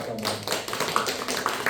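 Church congregation clapping in thanks to an elder during a Korean Methodist Sunday service, a soft, steady patter of many hands at moderate distance that continues evenly throughout.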